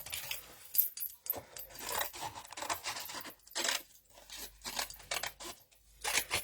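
Rough cutting of a sheet of stamped card stock for a slimline card, with scissors snipping and paper rustling in irregular close bursts and brief pauses between cuts.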